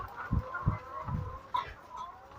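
Farm chickens cluck and call in short, irregular bursts from close by, a few low thumping notes followed by softer chatter, with no talk.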